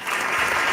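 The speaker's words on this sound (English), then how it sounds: "he hits the clap button" A canned applause sound effect fires from a button on a sports talk radio show, a short burst of dense, steady clapping at full level with no voices.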